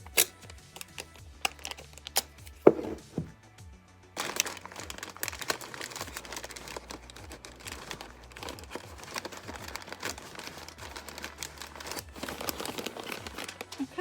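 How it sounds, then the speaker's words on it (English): Tape is torn and pressed down while a wire tree is packed, heard as quiet, close crinkling and rustling with a sharp tearing snap early on. "One more piece of tape should do it."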